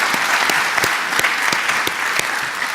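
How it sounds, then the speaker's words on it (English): Audience applause at a wind energy forum between panels, a steady bed of crowd clapping with a few sharp, distinct nearby claps standing out at irregular intervals, no speech over it. "Everybody give Suzanne a big round of applause."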